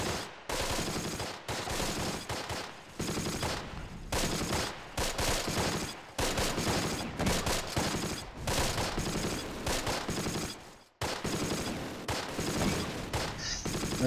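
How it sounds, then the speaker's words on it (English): A machine gun rattles in long, loud bursts in the World War II strategy game Close Combat: The Longest Day, the rapid fire broken by a few brief pauses. "That MG is still shooting up from up there."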